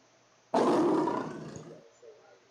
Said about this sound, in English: That's the lion sound.